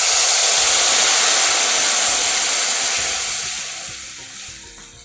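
Tamarind water is poured into a hot pan and sizzles loudly in a dense, steady hiss that slowly fades over several seconds. No one speaks.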